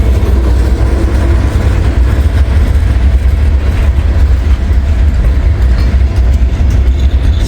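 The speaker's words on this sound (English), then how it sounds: "Double DPU coming through. They ain't really doing anything. They're just kind of idling." Two GE Dash 9 diesel locomotives in a double DPU consist idle outdoors on wet ground, giving a loud, steady, low engine rumble with constant mechanical rattle and no breaks.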